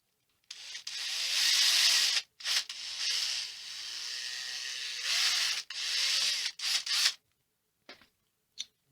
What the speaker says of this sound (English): And then let's just drill a little hole right here.